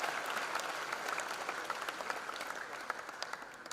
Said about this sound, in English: Give a big applause to Professor Dr. Selvam sir.